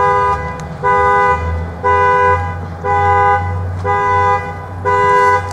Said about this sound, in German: Wohl eher Alarmanlage.